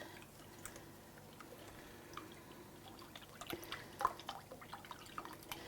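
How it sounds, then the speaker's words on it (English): Cooking liquid is poured into braising blade steak in a pan, heard as faint, close dripping and trickling with a few sharper splashes toward the end, over a quiet background with no talk. "Okay, we do need a little bit more liquid in there, so I will just pour that in."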